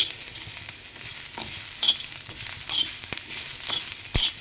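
Black peppercorns and cumin seeds dry-roasting in a pan, a soft continuous crackle broken by frequent scraping stirs and small sharp ticks of seeds against the metal, close and fairly quiet.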